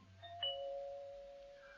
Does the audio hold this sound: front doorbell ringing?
yes